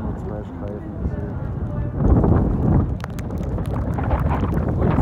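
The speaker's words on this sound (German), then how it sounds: "Und eisig. Eisiger Wind." Icy wind buffets the microphone during a cold walk in Eisenach, producing heavy low rumbling gusts that strengthen after the first couple of seconds, with a person speaking over it at the start.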